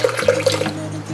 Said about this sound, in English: Then you put a bit water.